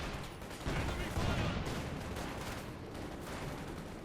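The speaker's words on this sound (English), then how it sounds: "T-34 moving in, engaging the Volksgrenadiers, machine guns and main gun firing there" T-34 tank machine guns and main gun firing in Company of Heroes 2, a dense, continuous barrage of battle gunfire and blasts with a commentator talking over it.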